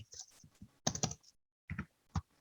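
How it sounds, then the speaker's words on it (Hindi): Keys on a computer keyboard clatter in three short clustered bursts separated by silent pauses, close and fairly crisp, with no talking. "सो अगर मैं यहाँ पे कुछ टाइप करूँ, जैसे हमने वहां एक टाइप किया था प्रिंट"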